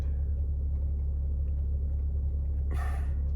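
A BMW X5 E70 engine idles steadily as a low, constant rumble, with a brief hissy burst near the end.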